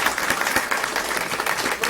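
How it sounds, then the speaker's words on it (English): Dense clapping from a school district board meeting audience, a brief burst of applause filling the room evenly. "Big round of applause for"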